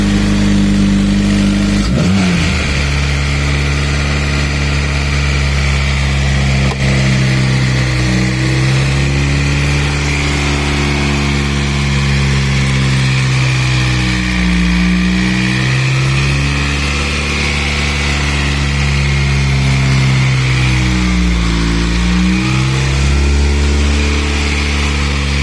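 A Honda B20 engine in a Del Sol runs at a steady, high idle, a loud continuous drone with slight wavering pitch throughout, with no one speaking.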